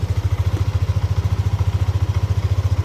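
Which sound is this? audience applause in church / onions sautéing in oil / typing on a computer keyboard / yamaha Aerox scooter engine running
yamaha Aerox scooter engine running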